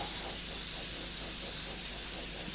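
A continuous, steady aerosol spray hiss as paint is sprayed onto a 1/32 scale plastic F-14D Tomcat model kit, close and even, running the whole time with no pauses or talk.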